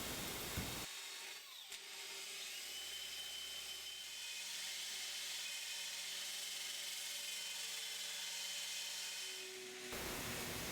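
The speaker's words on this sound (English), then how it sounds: "Here I'm using a wire brush and a drill." Power drill spinning a wire brush against wood, a steady high whirring grind that starts abruptly and runs without pause for about nine seconds before cutting off.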